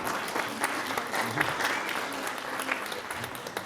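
Steady audience applause fills a panel discussion hall, a dense, even wash of clapping from many hands held at a constant level throughout.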